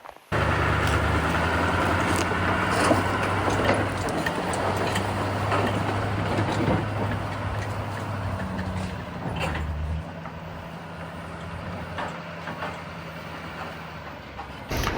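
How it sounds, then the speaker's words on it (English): An old Duramax diesel pickup truck strains to pull a load up out of a pond, its engine droning steadily and loudly under load, rising and settling before easing off near the end. "let's see if the old Duramax will pull it up out of the pond"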